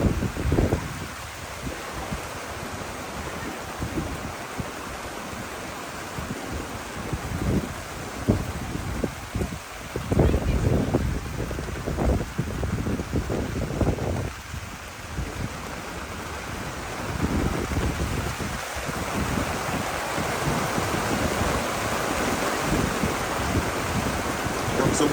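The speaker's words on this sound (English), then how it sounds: "just a little bit of a rainstorm going on" Rain and gusting wind sweep steadily over a campsite, a dense broadband wash with louder buffeting bursts in the middle stretch, continuous and fairly close throughout.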